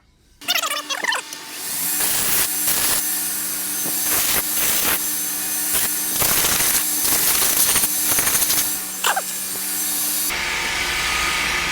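A kerf is sawn into a piece of wood, more than halfway through, for a cruiser axe. Steady, loud back-and-forth saw strokes rasp continuously for about ten seconds with no talking.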